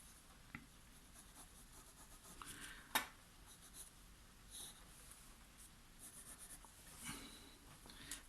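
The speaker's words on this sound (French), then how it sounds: "je vais simplement faire le tour grossièrement au crayon" Pencil graphite scratches quietly across paper, roughly tracing around a tea bag, with soft intermittent strokes, light rubbing, and an occasional small tap in a quiet room.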